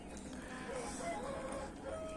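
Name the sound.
rooster crowing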